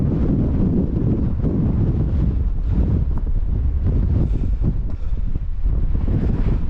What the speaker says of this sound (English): the wind's horrible